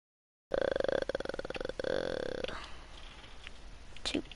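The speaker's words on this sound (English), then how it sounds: "I just now burped." A long, loud rumbling burp sounds close up while playing Minecraft, its croaky pulses fading out over a few seconds.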